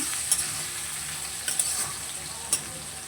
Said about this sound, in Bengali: পেঁয়াজটা একটু ভাজা হতে থাকে